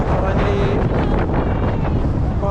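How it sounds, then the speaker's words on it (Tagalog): Wind buffets a vlogger's microphone outdoors in Canada, a loud continuous low rumble with gusty surges throughout, masking any other sound. "Paano yung hangin."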